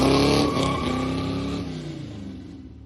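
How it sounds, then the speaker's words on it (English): A Plymouth Barracuda's 383 V8 revs hard for a burnout, loud and close with a rough, throaty roar that slowly fades and drops over about three seconds. "Let's see if it can actually do a burnout."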